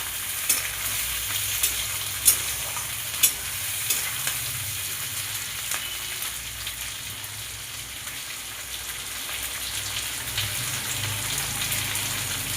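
Tomatoes and slit green chillies frying in a pan for egg chilli, a steady close sizzle with occasional sharp crackles and pops throughout.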